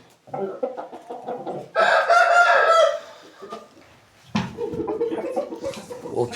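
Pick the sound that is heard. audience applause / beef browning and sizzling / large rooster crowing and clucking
large rooster crowing and clucking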